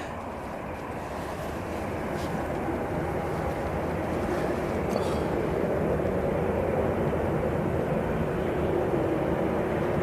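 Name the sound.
Ryanair plane taxiing onto the runway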